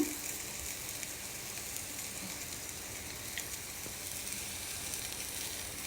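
Roasted peanuts fry in a pan for upma, a soft, steady sizzle of hot oil that stays faint and even throughout, with no voices.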